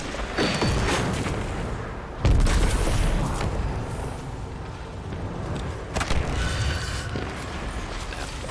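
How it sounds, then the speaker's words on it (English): Heavy explosive booms from a rocket weapon in a shooter video game, with a loud blast near the start and another burst later amid continuous rumbling gunfire and combat noise. "look at the damage that this rocket does"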